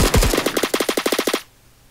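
A rapid burst of about a dozen silenced automatic gunshots in the Roblox shooter Phantom Forces, loud and evenly spaced, cutting off abruptly into near silence.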